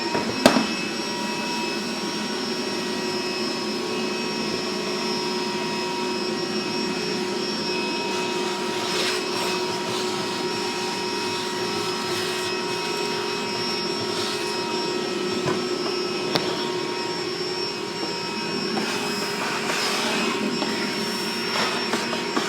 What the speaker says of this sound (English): I'm going to vacuum up our mess